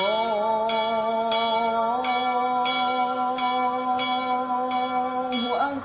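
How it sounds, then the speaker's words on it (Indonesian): Bell of the Catholic Church of Saint Servatius in Kampung Sawah, Jatimelati, Bekasi, heard alongside the Islamic call to prayer: steady ringing strokes repeat at regular intervals over a sustained chanted tone, fairly loud and close, with no talk. "kumandang azan mengiringi suara lonceng dari Gereja Katolik Santo Servatius Kampung Sawah Jati Melati Bekasi"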